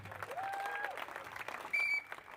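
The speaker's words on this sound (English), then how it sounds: "Oh, a round of applause there." Applause from a crowd at a strongman competition for competitor Sam Ashton, a fairly faint, steady patter of clapping with some whistles and crowd noise mixed in, rising briefly near the end.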